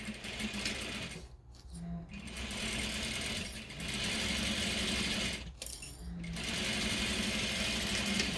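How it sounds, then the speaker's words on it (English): A sewing machine stitches a quarter-inch seam on a fabric poop bag holder, running in fast, loud bursts with two short pauses between runs. "we're going to sew this seam at 1/4 inch"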